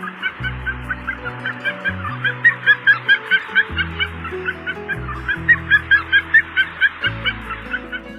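Harlequin duck calls, a series of rapid squeaky chattering notes in repeated bursts over a backdrop of soft low tones, fairly close and clear, with no voices.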